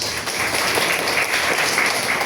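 A church congregation at a Triduum Mass for San Agustin claps loudly and continuously, a dense, even wash of applause that fills the room throughout.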